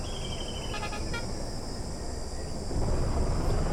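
An airplane passes overhead in the Truck Simulator India mobile game, a low broad rumble that swells near the end, with a brief horn-like toot early on.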